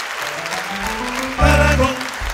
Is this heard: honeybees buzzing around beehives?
no